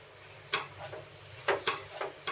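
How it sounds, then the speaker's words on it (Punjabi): Desi ghee being stirred into a sweet dish in a pan, with a steady sizzle underneath and several sharp spoon scrapes and clinks against the pan, irregularly spaced, close and clear, no voices. "ਹੁਣ ਆਪਾਂ ਦੇਸੀ ਘਿਓ ਵੀ ਇਹਦੇ ਵਿੱਚ ਮਿਕਸ ਕਰ ਲਾਂਗੇ ਚੰਗੀ ਤਰ੍ਹਾਂ"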